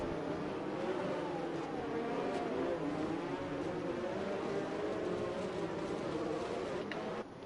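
F1 race cars in a video game esports league round at the Abu Dhabi Grand Prix drone steadily at a distance, their engine whine blending into a continuous, fairly quiet hum with no talk.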